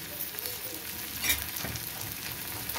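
Turmeric, salt and green chillies sizzle in oil in a pan, a soft continuous frying crackle with a faint stir or scrape partway through, fairly quiet and heard alone.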